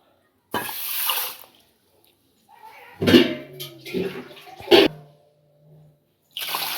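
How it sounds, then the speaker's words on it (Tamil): Water poured over raw rice to soak it in a home kitchen, several gushing bursts of pouring with short pauses between, close and fairly loud. "இதை நம்ம ஊற்றி தண்ணியை ஊற்றி ஊற வச்சுக்குவோம்."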